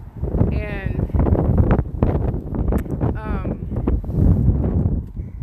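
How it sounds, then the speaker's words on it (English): Outdoor wind buffets the microphone in rough, rumbling gusts throughout, heard under continuous talking from a person outside. "it is windy out here"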